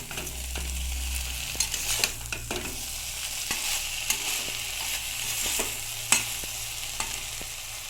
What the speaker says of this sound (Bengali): সাথে মাছগুলোও দিয়ে দেবো। এটা কিন্তু খুব সাবধানে নাড়াচাড়া করে নিতে হবে।